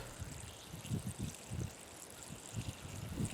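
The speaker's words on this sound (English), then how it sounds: "Letting it settle for a couple hours at a time lets me pour clear water off the top" Clear water trickles faintly as it is poured off settled clay slurry dug from a roadside, a soft uneven splashing heard close and alone.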